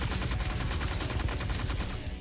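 Heavy machine gun in Honkai Impact 3 firing a dense, continuous burst of rapid shots, loud and close with a steady rattling rhythm throughout, no voices over it.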